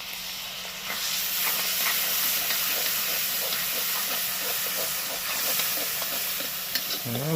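Spice water poured into a pan of hot caramelised onions, a loud steady steaming hiss and sizzle, close up, with rhythmic scraping of a stirring spoon running through it.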